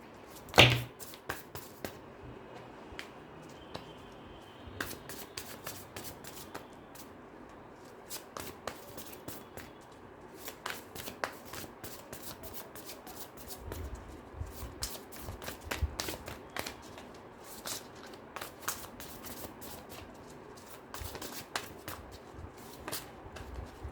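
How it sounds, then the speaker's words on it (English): Close, soft shuffling of a tarot deck with many short taps and riffles spread across the whole stretch, fairly quiet, with no talking. "Let me just cut the deck for you guys and I'll shuffle it one more time"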